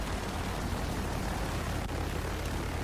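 A fixed-wing airplane in the video game BRM5 drones with a steady, loud, broadband engine roar throughout, with no talk.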